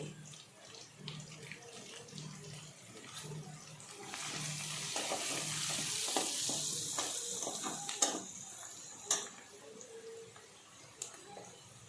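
Onions frying with turmeric in a pan for chicken curry, a soft sizzling hiss with occasional stirring clinks and scrapes, fairly quiet and close.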